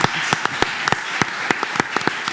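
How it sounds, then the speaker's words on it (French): An audience at a civic ceremony in Aix-en-Provence applauds, a full steady clatter of many hands with a few sharp individual claps standing out close by. "Applaudissements."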